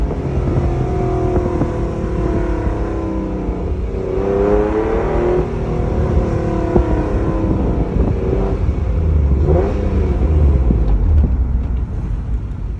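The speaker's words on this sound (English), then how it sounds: "And that's how it sounds without the new exhaust." An Acura NSX with its stock exhaust revs repeatedly in a shop, the engine note rising and falling in several throttle blips over a steady idle, loud and close with no talking.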